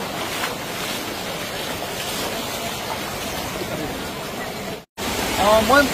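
Dikhow river floodwater pouring over an embankment at Baliaghat, Konwarpur panchayat in Assam, a steady broadband rushing wash with wind noise, briefly cut off near the end before resuming.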